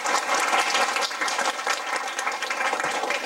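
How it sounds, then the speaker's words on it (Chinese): An audience at a children's holiday science event applauds to welcome Professor Liao, a dense, steady burst of many hands clapping that carries on for the whole stretch without any talking. "那我们现在就以最热烈的掌声欢迎廖教授。"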